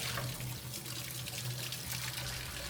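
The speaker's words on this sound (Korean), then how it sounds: "트레킹 떠나기 전 사용한 식기는 깨끗이 씻습니다." Tap water runs steadily into a sink at a campsite dishwashing area as used dishes are rinsed, a continuous close splashing rush with no talk.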